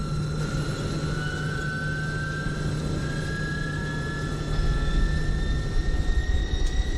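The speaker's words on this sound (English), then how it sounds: "Listen to that Rolls-Royce start sound" A Rolls-Royce engine on a Fokker 27 in Microsoft Flight Simulator spools up with a steady roar and a slowly rising turbine whine that grows louder toward the end.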